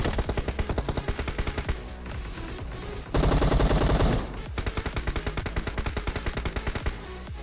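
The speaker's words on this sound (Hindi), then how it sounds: "थोड़ी फ्री फायर दूंगा स्मोक में" Gunfire from the mobile battle-royale game PUBG Mobile, sprayed into smoke: rapid automatic bursts of evenly spaced shots, a brief lull, then a louder sustained stretch of fire before the rhythmic bursts resume, close and loud with no talking.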